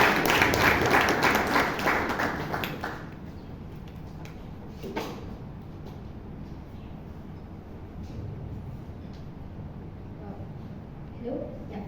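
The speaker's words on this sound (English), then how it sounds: "can we have a huge round of applause for Shreya" Brief burst of applause from a small audience at a Toastmasters club meeting in Bangalore, lasting about three seconds before dying away into quiet room noise with a few faint knocks and shuffles.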